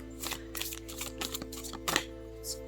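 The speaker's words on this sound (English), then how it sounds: "Shuffle one more time because it's not properly shuffled." Avatar-themed tarot cards are shuffled by hand in a quick run of soft papery riffles and taps, close and fairly quiet.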